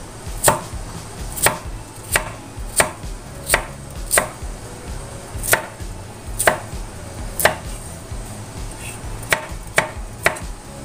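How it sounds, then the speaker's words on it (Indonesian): Carrots sliced with a knife on a board, a steady series of about fifteen sharp, close chops spaced irregularly, with no talking. "Iris wortel seperti ini sampai dengan selesai"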